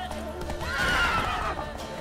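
A horse whinnies in The Witcher 3 video game, a rising then falling neigh standing out clearly over a steady game background hum, with faint hoof clops underneath.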